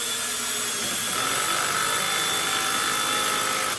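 A Milwaukee M12 Fuel screwdriver set to speed 1 drives a screw with a T25 bit, giving a continuous high-pitched motor whine that rises and steadies partway through before cutting off at the end.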